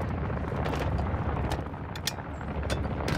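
Gunfire in DMZ Warzone, a rapid scatter of sharp shots and bursts, some near and some distant, cracking irregularly over a noisy low rumble with no voices.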